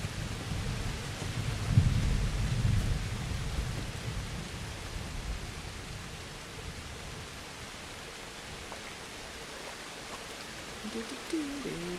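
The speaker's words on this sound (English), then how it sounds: "It's getting stormy." A thunderstorm with rain rolls through the medieval world of the game Kingdom Come: Deliverance, a low rumbling thunder swell early on over a continuous soft hiss of rainfall that settles to a steady wash.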